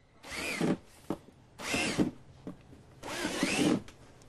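A power drill bores aeration holes in a bench for an earthTainer planter, giving three close, separate whirring bursts of roughly a second each with short gaps between.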